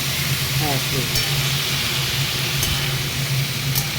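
Food with spices sizzles and fries in a pan while being stirred, a constant close hiss with a few faint scraping stirs layered over a low steady hum, no clear speech.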